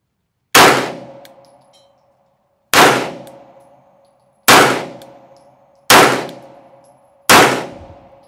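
Five sharp, loud metallic shots ring out from a CZ P-09 pistol fired double-action, evenly spaced about a second and a half apart, each with a bright crack and a fading ringing tail, with no voices between them.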